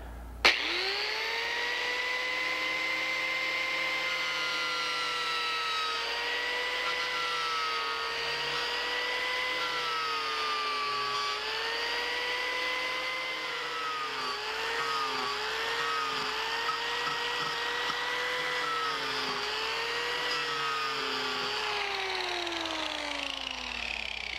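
A chainsaw runs continuously at high revs while carving out a wooden chair seat, its engine pitch rising and dipping as it bites into wood, loud and close with no pauses.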